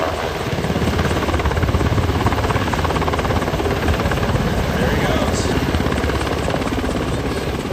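A search and rescue helicopter hovers low over water at a demonstration, its dense rotor and engine roar loud and constant throughout while someone speaks briefly over it.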